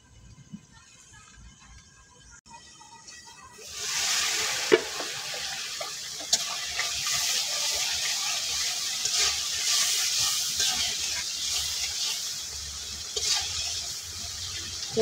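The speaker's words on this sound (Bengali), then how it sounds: "একটু মশলাটা একটু কষাই না, একটু ডাইকা দিতেছি।" Spiced masala paste fries and is stirred in a pan for a Bengali puti fish curry. It starts quiet, then a steady broadband sizzle swells up at about four seconds, with occasional sharp clicks of a spoon against the pan. No one speaks.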